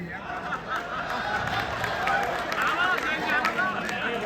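Applause from the audience at a Mathura kavi sammelan poetry recital, a dense steady patter of clapping mixed with crowd noise and voices.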